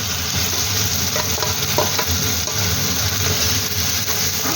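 Masala with green peas is fried and stirred in a wok, a loud, continuous sizzle with occasional faint scrapes of the spoon beneath it.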